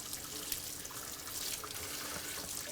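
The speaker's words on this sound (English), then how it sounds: "I'm just going to use a little bit of cold water" Cold tap water runs steadily over a whole raw chicken being rinsed in a sink, a continuous close splashing hiss with faint dribbles and no talk.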